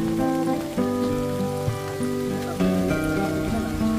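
Rain pours down at a coffee shop in Malico, Pangasinan, a dense, steady patter on the surface that swells heavier partway through, with no voices over it.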